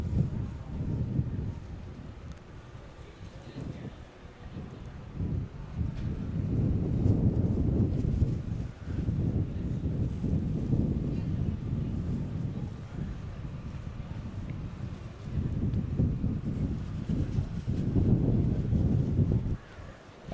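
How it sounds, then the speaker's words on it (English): Gusting wind sweeps across an outdoor snowmobile hill climb championship in Jackson, Wyoming, a steady low roar buffeting the microphone that swells and eases in waves for the whole stretch, with no voices. "As the wind picks up here, it is a little interesting."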